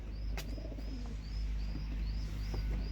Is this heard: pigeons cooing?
yes